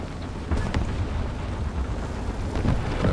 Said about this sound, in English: We will drop some artillery onto A.